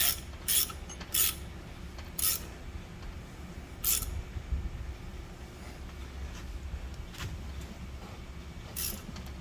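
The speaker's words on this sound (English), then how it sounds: "I'm going to use this socket and ratchet. I'm going to drive that in there and tighten it up." A socket and ratchet tighten a plug in a cracked Ford Ranger V6 cylinder head, giving several short, sharp ratcheting clicks in bursts. A quiet mechanical background runs between them.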